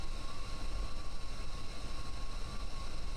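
Steady broadband roar of active jet engines in Kerbal Space Program, a continuous close whine with a high tonal hum layered over low rumble, unbroken for the whole stretch with no talk.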